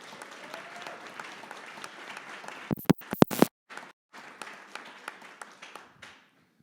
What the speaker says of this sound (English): let's give all those people another big round of applause